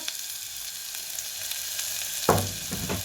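Mustard seeds and fennel hit hot oil in a pan and sizzle steadily up close, with a louder crackling burst near the end as more goes in, and no speech.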